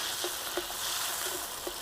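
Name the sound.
beef sautéing with onion and tomato in a pan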